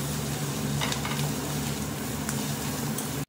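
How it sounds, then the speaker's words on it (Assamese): Onions frying in a pan for Assamese-style local chicken curry, a continuous close sizzle with a low steady hum beneath and occasional faint stirring, ending in a sharp clack. "আৰু এতিয়া ৰুকি থৈ দিয়া পিয়াজ খিনিও দি দিছো। এইখিনি অলপ ভাজি লম।"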